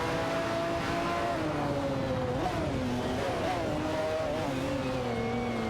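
Race cars in a racing game, including a Porsche 911 GT1 and a Dauer 962 LM, drone steadily with rising and falling engine whine as they accelerate and shift, a continuous layered roar of several cars.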